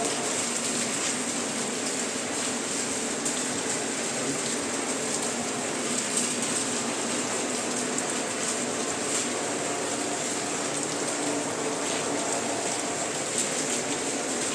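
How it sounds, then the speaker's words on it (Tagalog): Steady rain falls outside at night by a closed gate and stairway, a constant soft hiss of drops with no break, moderately loud and even throughout. "Umuulan ngayon."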